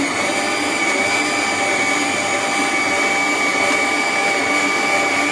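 An electric mixer runs steadily while eggs are whisked in one at a time, giving a continuous, fairly loud motor whir with a broad hiss that stays even for the whole stretch and has no talk over it.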